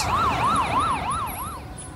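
A police siren wails nearby in a fast, repeating rising-and-falling sweep, loud and clear over faint road noise, fading a little toward the end.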